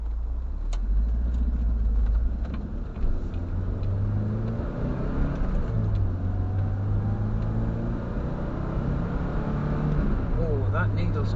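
A 1980 Triumph TR7 engine drones and rises through the gears while driving on B roads, a steady low rumble with shifting pitch, and a voice talks over it.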